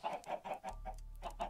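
Minecraft chickens cluck in quick repeated bursts, close and clear, with a low steady hum entering partway through.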